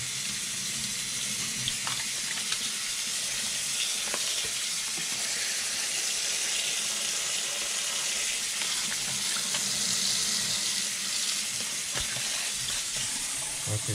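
Hot tap water runs steadily over tie-dyed fabric being rinsed in a sink, a constant close hiss and splash with occasional handling sounds and no talk.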